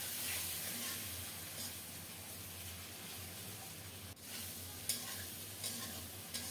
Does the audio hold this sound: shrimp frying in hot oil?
yes